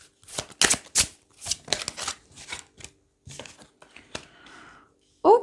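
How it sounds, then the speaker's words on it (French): Tarot cards shuffled and drawn for a reading, with riffling bursts, crisp flicks and soft slaps of card on card, close up, followed by a brief voice at the end. "je vais tirer mes cartes et puis je vous fais une analyse"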